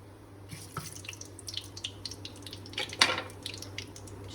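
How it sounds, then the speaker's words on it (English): Brown mustard seeds popping and sizzling in hot oil in a curry pan, with scattered sharp crackles and small spits over a steady low hiss. "I just let them have a little pop and a sizzle right now before I add my onion and my ginger and garlic."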